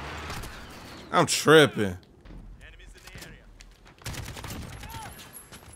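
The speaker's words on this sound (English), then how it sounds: "Oh, was I just shooting at a dead body?" Rapid video-game gunfire from Call of Duty Modern Warfare crackles in short sharp bursts, first a loud volley and then a later run of shots, with a player talking between them.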